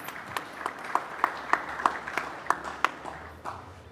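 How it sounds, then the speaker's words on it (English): An audience at an awards event applauds a panel, scattered claps rising over a soft murmur, fairly distant and thin, fading toward the end. "a big round of applause for this wonderful panel"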